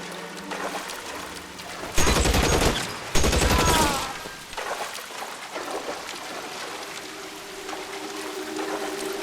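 Guns fire in the video game L.A. Noire in two loud, rapid bursts of close shots lasting about a second each, followed by quieter ambient game noise.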